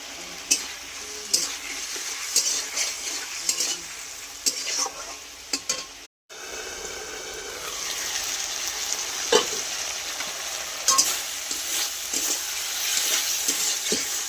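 Spice paste with salt and turmeric is stir-fried in a pan for a prawn, papaya and potato curry, with a constant crackling sizzle and repeated spatula scrapes and clinks, briefly cut off midway.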